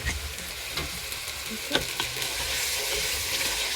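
Spiced masala for chicken roast bubbles and sizzles in oil in a pan, a continuous close crackle with occasional stirring scrapes and no speech.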